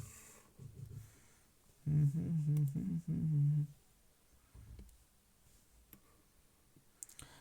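Sparse, sharp computer clicks from typing and pasting tick faintly through a quiet room, with a louder hummed, voice-like murmur in the middle of the stretch.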